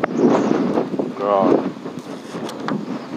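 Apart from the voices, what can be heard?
wind blowing on microphone while fishing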